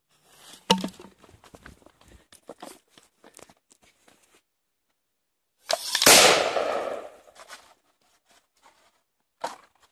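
A ground bloom firecracker set inside a bottle: a sharp crack, then a few scattered pops, followed by a loud hissing burst lasting about two seconds and a final snap as the bottle bursts, close by outdoors.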